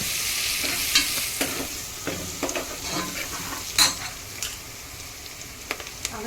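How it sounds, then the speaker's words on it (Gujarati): Chillies dropped into hot oil for Gujarati tempered rice hiss in a steady sizzle, broken by scraping stirs and a few sharp utensil clicks against the pan, close and moderately loud with no talking. "એમાં આપણે મરચાં નાખી દઈશું।"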